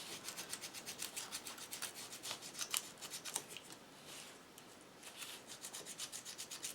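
Thin paper flower petals crumpled and rubbed with a stylus, a quick run of close, dry rustling scratches that come in rapid bursts and carry on without pause.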